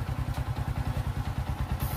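A Yamaha Exciter 135 motorcycle engine runs at idle after starting, heard close up as a steady, rapid low thumping pulse with even rhythm.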